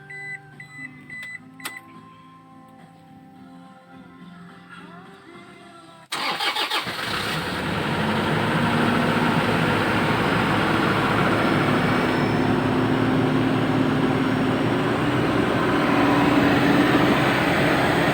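A 2008 Toyota Kijang Innova diesel cranks and fires about six seconds in, then settles into a loud, steady, close-up run. Quieter clinks and background noise come first, and no one speaks.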